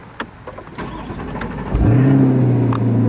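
A Chevrolet C8 Corvette fires up with a short starter whir that swells into a loud, steady engine roar, then settles into a strong, even idle up close.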